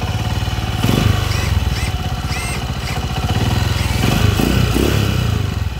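A motorcycle engine runs close by with a rough, rapid chugging pulse, rising slightly in intensity a couple of times, no talking.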